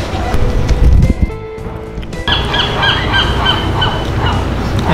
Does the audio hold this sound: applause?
no